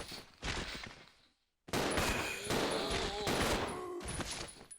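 Characters firing guns in Resident Evil Zero HD, a loud rapid volley of gunshots breaking off briefly, then dense continuous gunfire with ringing tails, with a voice faintly under it.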